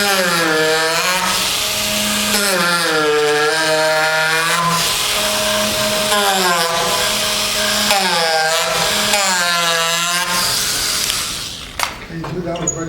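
A reciprocating power carver works a wooden platter with a loud, continuous buzzing drone whose pitch rises and falls in repeated sweeps as the cutting pressure changes, then stops near the end.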